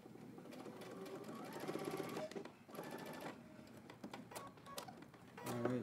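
A sewing machine top stitches and back stitches along a pocket flap for swim trunks, its rapid mechanical whirring running in bursts with brief pauses and a short reverse run near the end, close and steady.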